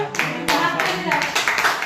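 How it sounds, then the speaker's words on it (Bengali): Hands clapping at a small family anniversary celebration at home, a quick run of close, light claps mixed with voices talking. "হাততালি"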